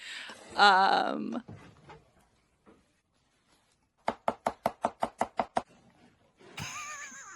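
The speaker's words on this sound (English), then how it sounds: "he's only using shop tools to cut the onions, cut the bread, toast everything" Shop tools cut onions and bread for a sandwich, heard as a fast run of about nine evenly spaced sharp chops. A voice is heard before and after the chopping.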